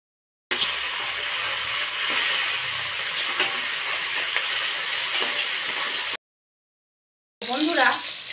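Falui fish frying in hot mustard oil in a pan while being flipped: a loud, steady close sizzle with hiss runs for about six seconds, stops briefly, then a voice speaks over renewed frying.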